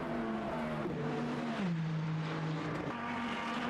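Cadillac race car in a Le Mans endurance racing game, its engine droning loudly and continuously and shifting pitch as it changes gear, with no talk over it.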